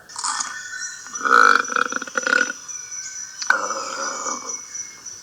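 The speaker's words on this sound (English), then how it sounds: "we can listen to the burp" A burp sound effect plays back in Audacity, giving a few croaky, gurgling belches in short bursts separated by brief pauses at moderate volume.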